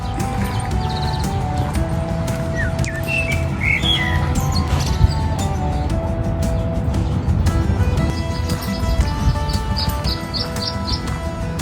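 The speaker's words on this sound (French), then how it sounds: "On entend les oiseaux qui discutent entre eux." Small birds chirp and tweet in scattered bursts in a small garden in Anaza, Tenerife, over a busy outdoor background with distant traffic and faint clattering.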